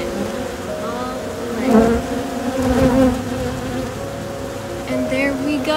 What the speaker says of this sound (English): there's literally so many bees on it